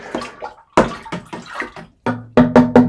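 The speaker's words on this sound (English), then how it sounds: "it doesn't hurt at this stage to aerate your musk to help that yeast out a little bit." Date wine must in a one-gallon batch is sloshed and splashed to aerate it after the yeast is added, making a series of close, loud liquid splashes and pours in an uneven rhythm, with brief pauses between bursts.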